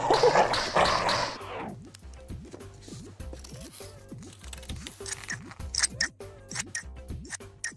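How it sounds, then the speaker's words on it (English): Scissors snip repeatedly through paper, cutting out shapes, in a quick, steady rhythm of crisp cuts, close up, after a brief rustle at the start. "Now we can cut these shapes out, but be careful because scissors are sharp."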